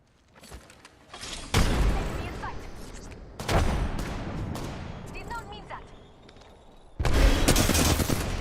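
Gunfire in an Apex Legends battle royale esports match: three long stretches of loud, rapid shooting with short gaps between, and a commentator's voice faintly under the volleys.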